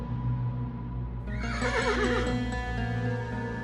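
A horse whinnies loudly and close, a shrill wavering neigh rising over a low steady background, with faint hoof clatter suggesting a rider approaching.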